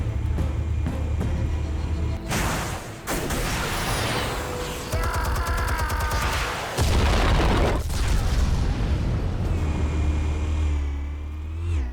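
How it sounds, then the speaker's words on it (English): Armed explosives detonate in the Batman Telltale Series video game: several deep, loud booms and crashing blasts at intervals over a steady low rumble, with no speech. "Explosives armed. Fire when ready."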